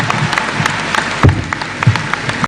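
Crowd applause with distinct individual claps and a couple of heavier thumps, a fairly close, lively burst that cuts off abruptly at the end.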